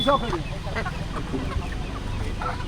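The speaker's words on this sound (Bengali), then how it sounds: "আর এখানে রয়েছে হাঁস মুরগি আর এদিকেও প্রচুর মুরগি" Chickens cluck in a busy tribal village market in Purulia, with bursts of clucking over steady crowd noise and nearby voices.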